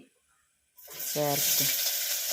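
Chopped onion hitting hot oil with dried red chillies, near-silence giving way to a sudden loud, sustained sizzle that stays steady, with a brief voice sound partway through.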